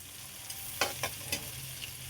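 Vegetables and sardines being sautéed in a pan give a low steady sizzle, with a few sharp scraping stirs of a utensil against the metal standing out in quick succession.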